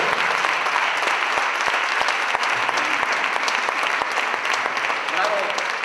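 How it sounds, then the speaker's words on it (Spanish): Audience applause at a music school's closing concert and recital in Cortegana, a dense, steady clapping that fills the whole span, loud and close, with faint cheering voices mixed in. "aplauso para la grande Adriana."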